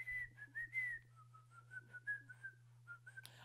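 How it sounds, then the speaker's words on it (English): Someone whistling clumsily, a wavering, thin tune of short and longer notes with small gaps between them, close and fairly quiet over a steady low hum, with a brief thump at the end. "There's nothing more pathetic than someone who can't whistle and tries to whistle."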